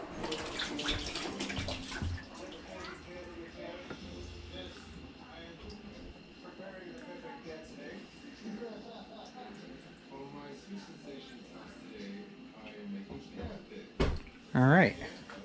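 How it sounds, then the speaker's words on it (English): Water pours and splashes into a jar of apples being prepared for cider vinegar, a continuous rushing stream heard under a person talking throughout, with louder sloshing near the end. "I'm going to bring the water right up to here on them."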